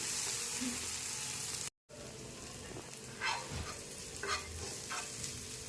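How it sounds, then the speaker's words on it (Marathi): Garlic, ginger and green chilli frying in a pan while being stirred, a steady close sizzle with a few scraping stir strokes, broken by a brief dropout. "फक्त एक ते 2 मिनिट आपल्याला ही परतून घ्यायची आहे, लसूण अद्रकचा कच्चेपणा जाण्यासाठी आणि हिरवी मिरचीचा"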